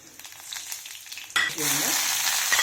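Mustard seeds, fenugreek, black pepper and cumin hit hot oil for a tempering, erupting into a close, steady crackling sizzle after a quieter start, with no talking.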